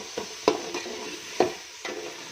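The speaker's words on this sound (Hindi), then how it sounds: "कटे हुए ये टमाटर डाल दें। टमाटर भूनें" Chopped tomatoes fry in a pan on top of cooked onions, with a few spoon scrapes over a low, constant sizzle, close by and without talk.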